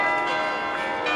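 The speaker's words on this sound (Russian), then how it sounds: "звучат колокола." Church bells of the Peter and Paul Cathedral ring in a dense, sustained wash of overlapping metallic tones, steady and fairly loud throughout a short stretch with no talking.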